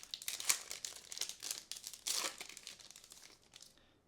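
A Bowman U Chrome basketball card pack wrapper is torn open with close, crisp crinkling and ripping foil sounds in irregular bursts over a few seconds, then fading, no talking.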